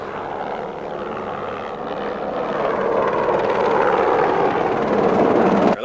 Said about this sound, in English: Her last wish was to watch a helicopter carry away a donkey.